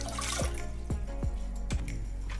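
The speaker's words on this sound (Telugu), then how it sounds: "ఈ కప్పే వాటర్ తీసుకుంటున్నానండి వాటర్ ఈ గిన్నెలో పోసుకుందాం" Water poured from a cup into a bowl while making undrallu dough, a series of about four hollow, gurgling plops over a soft steady trickle, close and moderately quiet.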